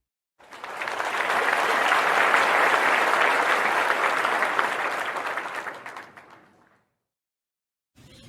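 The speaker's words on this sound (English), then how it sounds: "Big round of applause" A crowd at a volunteer award night applauds the winners with loud, dense, sustained clapping that swells, holds and then fades away into silence, followed by a brief new sound at the end.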